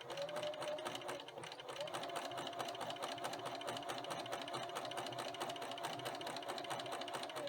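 A sewing machine stitches a sock into 18-inch doll tights, running in a fast, steady mechanical whir with one short slowdown early on, close and continuous.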